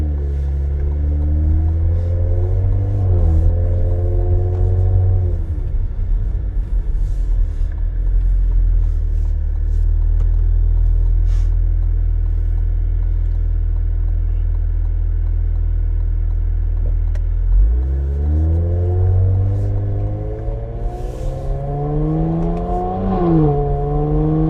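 Cadillac CT5-V engine heard from inside the cabin, a deep loud drone that rises through the revs, eases back, then climbs again in a second hard pull, with no talking.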